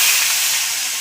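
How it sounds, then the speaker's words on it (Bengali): Prawns hitting hot oil in a kadai for a Bengali-style fry, giving a loud, steady, close sizzle with a broad hiss that barely fades, no talk. "কড়াইতে তেল দিয়ে দিয়েছি, তেলটা গরম হয়ে গেছে। আমি এখন মাছগুলো দিয়ে দেব।"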